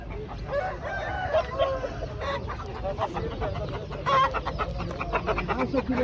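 Indian roosters and hens clucking at the edge of an outdoor poultry market, a close, continuous jumble of clucks and calls with light crowd background and occasional voices.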